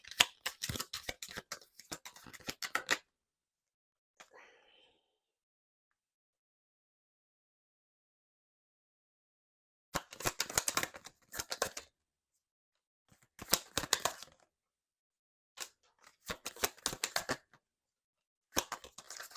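Tarot cards are shuffled and drawn in several short bursts of crisp riffling crackle, separated by stretches of near silence.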